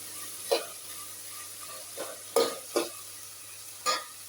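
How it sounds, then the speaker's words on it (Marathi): Onions, tomatoes and potatoes fry in about two and a half spoons of oil with a soft, steady sizzle, punctuated by several distinct stirring scrapes at irregular intervals, close and fairly quiet with no talk. "आता हे बघा कांदे टमाटर बटाटे हे पूर्ण आता फ्राय होऊ देतो यांना"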